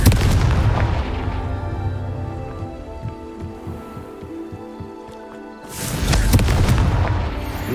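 Blasting-spell explosion in a Harry Potter mobile game, a loud booming burst with crackling debris, a rattling patter of smaller impacts through the middle, then a second heavy blast near the end.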